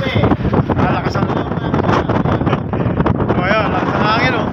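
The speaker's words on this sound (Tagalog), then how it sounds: "lakas ang hangin" Strong wind roars across the microphone on a small boat out at sea in rough, wavy conditions, loud gusty buffeting with water noise throughout while someone talks over it.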